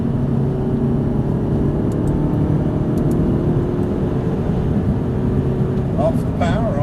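An Audi R8's engine drones steadily from inside the car on a track, a constant low hum under an instructor's talking, with no sharp rise in revs.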